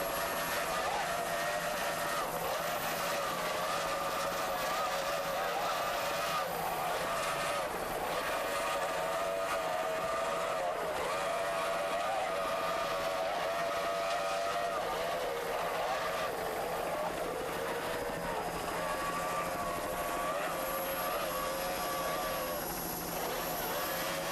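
Steady droning roar of twin turbo 2.5 EFI outboard engines on offshore racing boats at high throttle, continuous and fairly loud, with slight wavering in pitch throughout.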